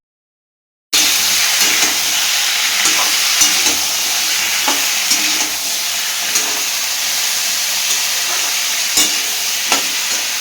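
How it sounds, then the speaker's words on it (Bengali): Fish and fish heads fry in a pan with a loud, steady sizzle and occasional crackles and clicks, starting abruptly after a second of silence, no talk. "মাছের মাথা ভাজছি, মাছ ভাজছি"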